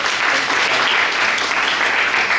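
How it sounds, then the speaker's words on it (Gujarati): Dense, steady applause from a gathered audience at a vote-of-thanks event, honouring Shekharbhai, loud and sustained without a break for a couple of seconds. "આની માટે ભાઈ શેખરભાઈ માટે એકવાર તાળીઓ દઈએ."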